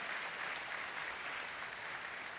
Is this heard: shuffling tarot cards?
no